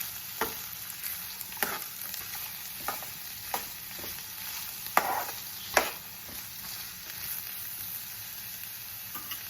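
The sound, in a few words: stirring green chilies and turmeric in a pan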